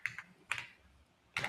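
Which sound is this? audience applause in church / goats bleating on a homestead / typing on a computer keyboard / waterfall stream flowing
typing on a computer keyboard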